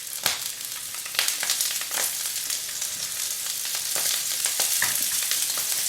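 Sausages fry in a Masterpan frying pan with a close, steady crackling sizzle, broken by occasional sharper pops and spits.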